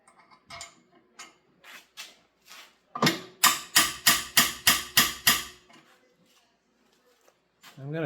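Hammering on sheet metal of a model flat car, a few light taps, then a run of seven sharp, ringing blows close by, with brief pauses between.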